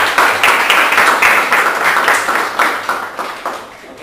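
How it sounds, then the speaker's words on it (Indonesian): Classroom audience applauding after a student group's presentation, a steady, dense burst of clapping from many hands that holds for several seconds before gradually thinning toward the end. "Aplaus dulu."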